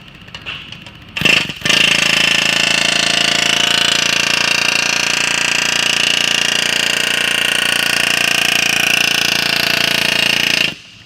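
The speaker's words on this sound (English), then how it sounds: "We're going to stretch that flange." A sheet metal flange being stretched with a stretcher tool, heard as a loud, steady mechanical roar that starts after a few short knocks and runs for about nine seconds before stopping abruptly.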